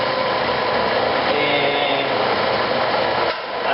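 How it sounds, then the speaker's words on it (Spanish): A wooden tool handle spins on a running lathe while sandpaper is pressed against it, a steady loud whirring hiss that holds evenly and then dips briefly near the end. "Le vamos a dar una pequeña lijadita."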